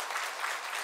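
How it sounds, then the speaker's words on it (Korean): A church congregation applauding during a Sunday service, a brief, soft, even patter of many hands clapping at a moderate distance. "우리 박수로 환영하겠습니다"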